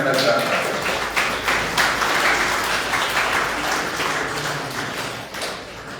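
A seated audience at an Indian stage event applauds, a dense continuous wash of clapping lasting several seconds at steady loudness from a mid-distance crowd.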